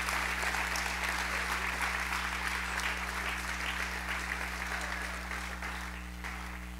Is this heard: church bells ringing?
no